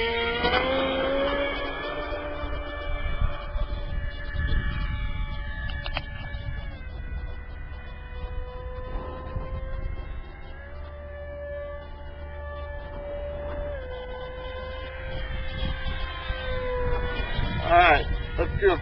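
A radio-controlled A-10 Warthog model, converted to a 6x4 pusher propeller, flies overhead with a buzzing electric motor whose pitch rises and falls as the plane passes and circles. The sound stays fairly distant and carries on for the whole stretch.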